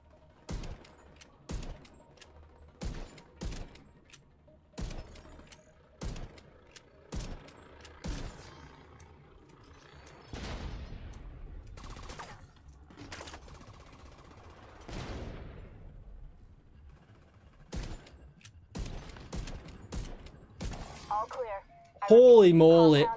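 Repeated rifle shots from a Diamondback lever-action rifle in The Division 2, sharp single cracks spaced a second or so apart, some in quick clusters, with game effects and a louder burst near the end.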